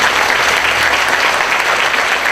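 An audience at a Korean government innovation award ceremony claps steadily and densely throughout, a loud and continuous wash of applause with no talk over it.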